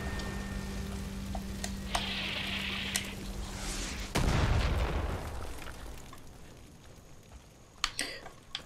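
Far Cry 5 gunfire: a sudden loud blast followed by a sustained burst of noise, then a few sharp shots near the end over background game sounds.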